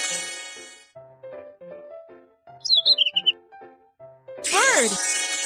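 In a children's video game, a cartoon bird chirps in a quick burst of high bright tweets over light game music, followed by a louder tonal call.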